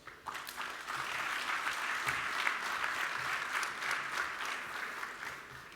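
Applause at a football congress in Kuala Lumpur, a hall audience electing a candidate by acclamation: steady, even clapping from a large crowd that starts abruptly, holds at moderate level for several seconds, then tapers slightly.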